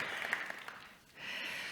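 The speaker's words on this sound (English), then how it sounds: "Can I have a clap for Kabir and the NewNet team?" Faint, brief applause from a conference audience clapping for a presenting team at a tech event opening, a short soft patter that dips then resumes.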